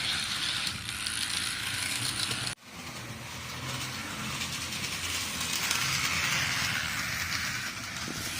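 A small model train engine runs at full power along its track, giving a steady mechanical whirring and clicking rattle throughout, with a brief sharp drop in the sound partway through before it resumes.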